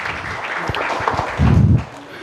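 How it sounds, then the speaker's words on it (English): A brief burst of clapping for the vice chairman at the inaugural session of an academic faculty development programme, loud and close, swelling near the end over room murmur and faint voices before fading. "A big round of applause, everybody, for our Vice Chairman, sir."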